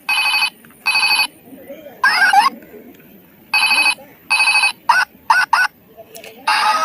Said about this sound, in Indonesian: Ada telepon Hello Kitty.